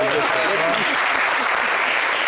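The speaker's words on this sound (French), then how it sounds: "On peut applaudir quand même, elle était déjà." Studio audience applause on a local French television programme, a loud, continuous wash of many hands clapping without pause from start to finish.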